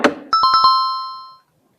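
A telephone at a workplace rings with a quick series of four bright, clear electronic chimes that ring out and fade; a brief voiced sound comes just before.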